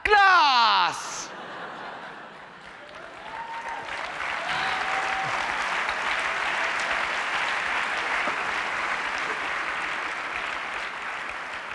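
An audience breaks into sustained applause at a French stand-up comedy show, a dense wash of clapping that swells after a brief vocal outburst and holds steady to the end, with scattered chuckles.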